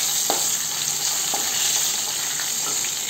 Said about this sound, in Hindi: सूखी लाल मिर्च, जीरा और सरसों, हींग देखिए थोड़ा चलाएंगे।